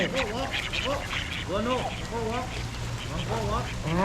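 Several ducks quack loudly and repeatedly nearby at a farm show, overlapping in a busy chorus over steady background noise.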